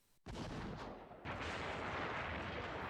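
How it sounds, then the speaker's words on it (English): Cannon fire landing close by, two heavy booming impacts roughly a second apart, each followed by a sustained rumbling roar that fills the rest of the clip. "we heard cannons land right next to where we were."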